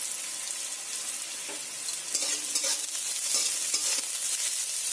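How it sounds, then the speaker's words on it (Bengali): Chopped onions with nigella seeds and a dried red chilli fry in a pan, a steady close sizzle with scraping stirs that grow slightly louder, with no talking. "কেটে রাখা পেঁয়াজগুলো দিয়ে দেব। ভালো করে ভেজে নেব"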